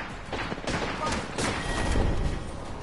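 Apex Legends gameplay with bursts of video game gunfire, rapid layered shots and impacts mixed with game effects at fairly steady loudness, and a voice briefly present.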